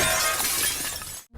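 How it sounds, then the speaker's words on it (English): Glass window shattering in The Last of Us Part II, a loud, dense burst of breaking glass that fills the moment and then cuts off sharply into silence. "breaking windows that I knew had nothing in them just to hear the sound of broken glass"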